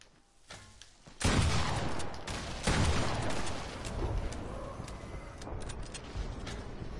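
Gunfire in the Fortnite video game, a dense burst of rapid shots and loud blasts starting abruptly after a quiet moment, close and sustained, then trailing into continued firing and rumble.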